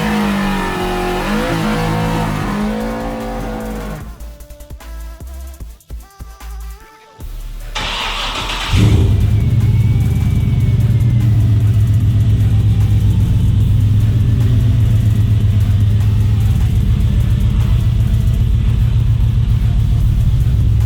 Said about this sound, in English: we're going to go ahead and fire the truck up, pull it outside